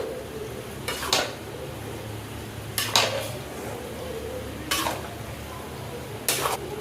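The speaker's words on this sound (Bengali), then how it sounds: "এবার আমি ভালো করে মিক্স করে নেবো" Meat being mixed with salt in a pot: four separate bursts of metal spoon scraping and clinking against the pot, evenly spaced, over a low background hum.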